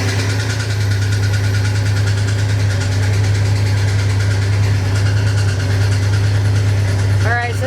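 A 1985 Chevrolet C10 pickup engine runs at a steady loud idle, a constant low throbbing hum that holds evenly throughout, with a brief whining squeal near the end.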